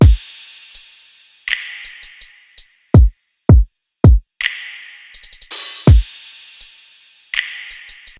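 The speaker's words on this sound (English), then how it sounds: "And also an open hi-hat on every half tempo of the last beat of each bars." Drum loop with booming kicks, tight clicks and short bursts of hissing hi-hat, including an open hi-hat splash near the end of the bar, punchy and close with no voices.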